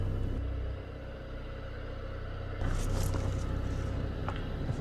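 A damaged Audi TTS engine runs while the car drives slowly, a steady mid-pitched rumble that grows slightly louder partway through, with light clatter on top and no talk.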